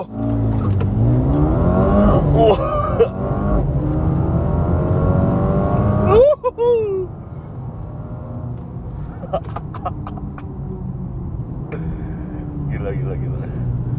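A 2022 Mercedes-AMG A 35 Sedan launches hard, its engine revving and climbing in pitch, briefly dropping at a gear change, then pulling on steadily at high volume.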